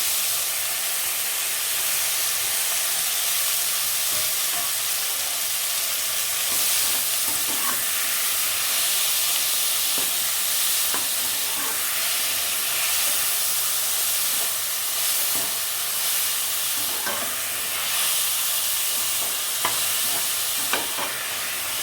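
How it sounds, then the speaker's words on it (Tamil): Onions and chopped tomatoes sauté for dal in a pan with a loud, steady hiss of sizzling oil, broken now and then by faint stirring scrapes, and no one talking. "நல்லா வதக்கிக்குவோம்"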